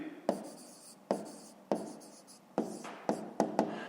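Pen writing on paper during a fifth-grade math exercise, a series of short scratchy strokes in quick bursts with brief pauses between, close and fairly quiet, no voices.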